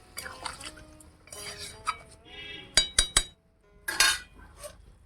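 Metal lid set onto a cooking pot of chicken and raw jackfruit, a quick series of sharp clinks and clatters in the middle, among softer kitchen handling and some talking.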